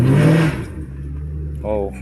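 A Lincoln Town Car engine revs up and then settles, tires spinning, with someone talking over the close engine note.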